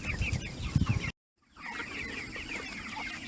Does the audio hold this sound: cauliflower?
no